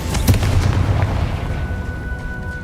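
A fire spell explosion in Hogwarts Legacy goes off as a sharp booming burst, then rumbles and crackles on in a dense, sustained roar that slowly fades.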